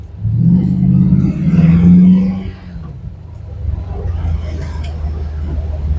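A 1953 Chevy with an LS swap engine revs loudly while driving, climbing in pitch for about two seconds before dropping to a lower rumbling idle, with some clatter as it bounces.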